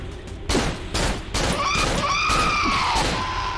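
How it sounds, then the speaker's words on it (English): Gunshots ring out in the Cry of Fear horror game, several loud sharp broadband bangs at irregular intervals over a tense, noisy background, followed by shrill tonal screeching sweeps. "I accidentally shot"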